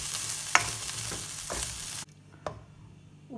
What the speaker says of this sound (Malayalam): ഇനി ഇത് നമുക്ക് ഇളക്കി കൊടുക്കാം.